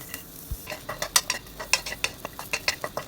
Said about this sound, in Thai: เททั้ง2ออย่างนี้นะคะใส่ลงไปในกระทะคั่วจนกว่าทั้ง2อย่างจะสุกค่ะ